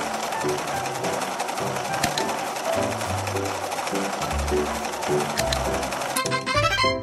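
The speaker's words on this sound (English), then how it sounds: "Let's sew the pieces together." A sewing machine in a dress-up video game stitches clothing pieces in rapid, even mechanical chatter, with short bursts of game music and a cheerful chime near the end.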